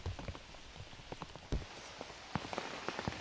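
Rain falls steadily outdoors at a disc golf tournament, a dense patter of drops tapping on nearby surfaces with occasional louder close splats.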